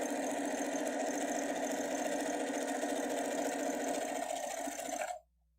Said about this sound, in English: And now you're just going to go ahead and sew on that line.